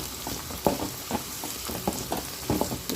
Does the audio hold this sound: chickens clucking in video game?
no